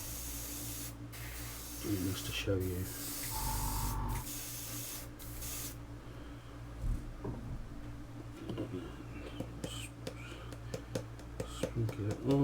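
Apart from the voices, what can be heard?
spray painting a Hyundai i20 WRC model kit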